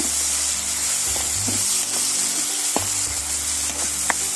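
Okra and tomatoes for a curry sizzle loudly in a pan as they are stirred, a dense continuous hiss with short knocks and scrapes of the spoon against the pan.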